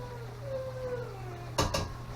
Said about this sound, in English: you guys can hear my one dog